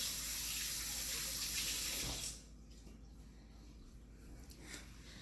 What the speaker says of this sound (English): you want to throw it away and wash your hands to prevent contamination.